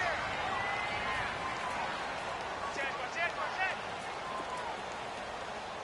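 Steady rain falls in an American football video game, a broad, even hiss running throughout with a few brighter splashy flickers near the middle.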